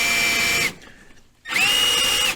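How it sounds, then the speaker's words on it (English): A power drill bores quarter-inch holes through plastic mounting bosses for a wrap-around front bumper on a Ski-Doo Expedition snowmobile. There are two loud, close, steady whining bursts with a brief quiet gap between them. "we've got 2 marked bosses on either side that we need to drill out to 1/4 inch"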